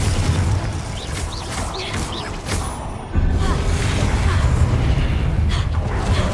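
A Confringo blasting spell explodes in Hogwarts Legacy, a deep booming blast with crackling bursts that surges loudly about halfway through and keeps rumbling to the end, with faint talk mixed in.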